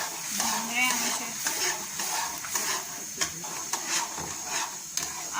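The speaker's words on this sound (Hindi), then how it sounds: "जैसे जैसे हम चम्मच को हिला रहे हैं, जैसे जैसे हम इसकी बुनाई कर रहे हैं" Ash gourd halwa stirred in a pan with a spoon, soft scraping and a few metallic taps over a light sizzle, close by; a voice is heard briefly.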